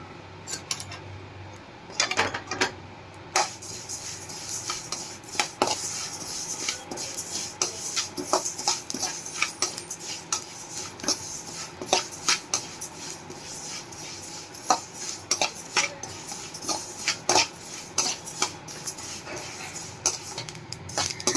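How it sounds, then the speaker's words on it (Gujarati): Fennel seeds are dry-roasted and stirred continuously in a pan for sesame mukhwas, producing a steady patter of light scraping and ticking clicks as the seeds shift against the metal, close and fairly quiet, with no voice. "તો આપણે આ વરિયાળીને પણ 2 થી 3 મિનિટ માટે શેકી લેશું।"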